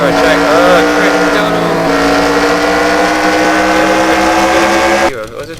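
A race car engine in a racing video game roars loudly and steadily with a high, buzzing tone, then cuts off abruptly near the end.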